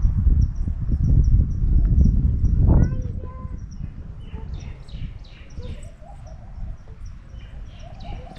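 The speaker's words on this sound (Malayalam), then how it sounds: "കിളികളുടെ കളകളാരം." Birds calling in a wooded valley near a small waterfall and stream, with several short chirps scattered over the second half above a low rush of water, louder rumbling noise early on.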